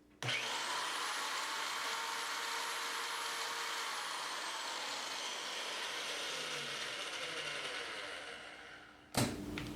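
A Bauer electric pipe threader with a Doyle chain vise starts up and runs, its motor giving a loud, steady mechanical whir with a high whine for about nine seconds before a sharp click as it stops.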